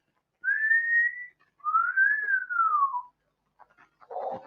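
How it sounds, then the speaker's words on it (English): A person whistles to call a dog named Sky: two long, clear rising-and-falling whistles, the second deeper and more drawn out, followed by faint rustling and a brief bit of noise. "that was a deeper whistle"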